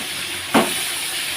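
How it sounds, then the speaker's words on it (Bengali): Pointed gourd (potol) frying in a pan gives a steady soft sizzle, broken by one brief louder hiss-and-spatter burst partway through, with no talking. "আমি পটলটা ভাজছি"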